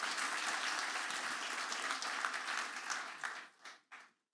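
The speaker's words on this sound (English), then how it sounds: "That deserves a round of applause" Applause from a summit audience in the Bay Area–Silicon Valley, a steady dense wash of clapping that holds for about three seconds, then thins into a few scattered bursts and stops.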